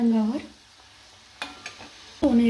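Wheat dough fists deep-frying in oil until golden for churma laddu, a soft bubbling sizzle between brief bursts of stirring and clattering near the pan, with a short voice at the start and end.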